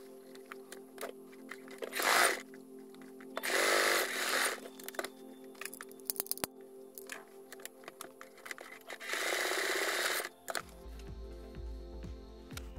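Machine stitching on fabric for a fluffy rabbit ear bag, coming in bursts of rapid mechanical whirring with quieter pauses of small clicks and handling between runs.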